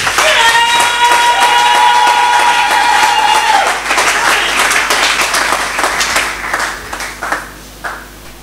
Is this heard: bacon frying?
no